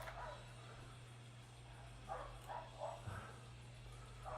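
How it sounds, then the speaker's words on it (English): Dogs bark faintly in the distance, a handful of short yaps in a loose cluster over a steady low electrical hum, quiet and far off. "Dogs are barking."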